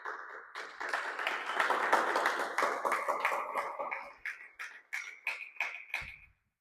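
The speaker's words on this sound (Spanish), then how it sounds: "Den un aplauso al Señor." Congregation applauding in a church, a thick burst of clapping that swells quickly, then thins into scattered, spaced claps before stopping.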